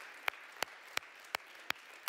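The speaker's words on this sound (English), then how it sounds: "Round of applause for these guys." A few slow, evenly spaced hand claps, about six sharp isolated strikes, quiet and fairly close, with a hushed room between them, offered for students at a panel discussion on mobile journalism.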